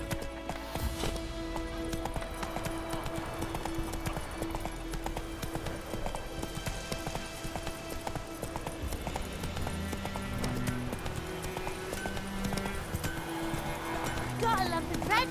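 Roach the horse in The Witcher 3 video game clip-clops along in a steady, close hoof rhythm for a long stretch, under a music bed and a voice calling to the horse.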